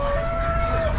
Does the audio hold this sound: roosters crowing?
yes